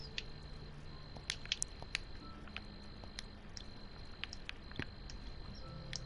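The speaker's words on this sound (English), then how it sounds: "I hear crickets." Crickets in a Minecraft night scene, chirping in faint, sparse, scattered bursts over a quiet background.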